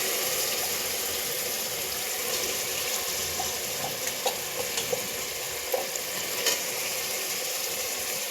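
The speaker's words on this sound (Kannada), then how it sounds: "ಇದು ಸ್ವಲ್ಪ ಹಸಿ ವಾಸನೆ ಹೋಗೋವರೆಗೂ ಮಾತ್ರ ಫ್ರೈ ಮಾಡ್ಕೊಳ್ಬೇಕು" Ground masala paste for Hassan-style mutton sambar fries in a pan, giving a steady, moderately loud sizzle with occasional soft clicks and scrapes from stirring, and no voices.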